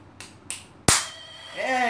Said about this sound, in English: And now I think you're supposed to clap.